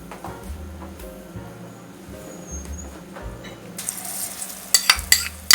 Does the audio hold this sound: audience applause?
no